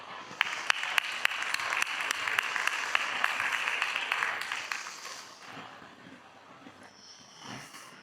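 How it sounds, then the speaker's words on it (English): Conference audience applauds as three panelists on supply chain decarbonization walk onto the stage; crisp clapping with sharp individual claps that thins and fades out over the last few seconds, followed by faint stage sounds. "give a big round of applause for Therese, Sebastian, and Johannes"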